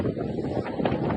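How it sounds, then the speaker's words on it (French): Wind buffeting the microphone aboard the Maxi Banque Populaire racing yacht sailing upwind, a steady low roar and rush that swells and gusts, shifting in strength throughout. "Et le vent est pas facile."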